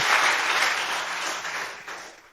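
A church congregation applauds strongly in praise of the Lord, a full burst of clapping that gradually fades over a couple of seconds.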